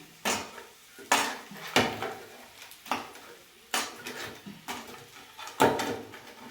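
Fish pieces go one by one into oil in a pan for a village-style fish fry, making a series of irregular metallic clunks and scrapes of utensil against pan, close up with little sizzle.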